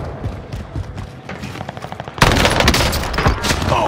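PPSh submachine gun hipfire in Call of Duty: Warzone, with rapid bursts of automatic gunfire that swell to a louder, denser sustained volley in the second half.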